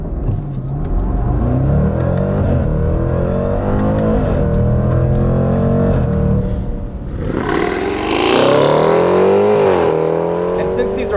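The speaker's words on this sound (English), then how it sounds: "2020 Jaguar F-Pace SVR with no launch control." A 2020 Jaguar F-Pace SVR supercharged SUV launching hard without launch control, its engine climbing through rising gear pulls with a loud surge near the end, while voices talk over it.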